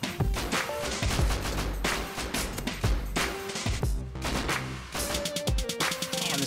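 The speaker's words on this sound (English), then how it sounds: "I'm gonna start opening fire in a second" Rapid gunfire in the video game Rust, aimed at the attack helicopter, sustained loud bursts of shots crackling almost continuously with heavy booms under them.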